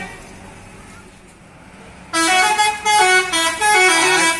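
An intercity AKAP bus in Kuningan gives a loud greeting on its horn, several close melodic blasts following a quieter lead-in of traffic rumble.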